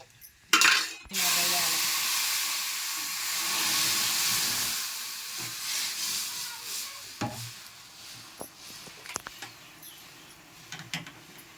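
Dal poured into a hot cumin, garlic and turmeric tempering bursts into a loud hiss that eases into a steady steaming sizzle and fades, with scattered clinks of utensils toward the end.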